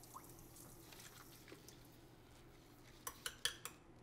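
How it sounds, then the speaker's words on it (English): Running water trickles softly over a utensil coated with matcha as it is rinsed, then a quick series of sharp metallic clinks rings out near the end. "I'm just gonna rinse this so that we can use it"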